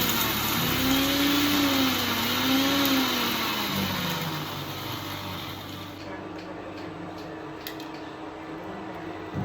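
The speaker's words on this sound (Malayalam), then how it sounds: "പിന്നെ കുരുമുളക് ഒന്ന് ക്രഷ് ചെയ്യണം." Electric mixer grinder crushing black pepper, a loud close motor whir with rising and falling pitch that runs for several seconds before winding down.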